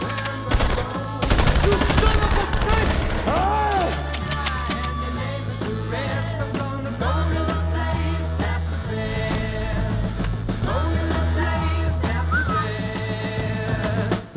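Gunfire in a film scene as a man shoots at a wedding cake: loud rapid bursts of shots over a driving musical score, continuing throughout at close range.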